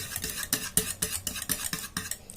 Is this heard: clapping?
no